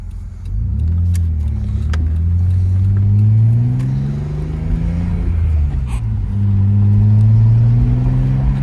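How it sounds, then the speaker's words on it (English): A 1991 Nissan Laurel Medalist Twin Cam engine heard from inside the moving car: a close, deep rumbling drone that climbs and falls in pitch as it accelerates and shifts, steady throughout with no talk. "I really enjoy the sound of the engine."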